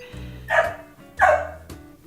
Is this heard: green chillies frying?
no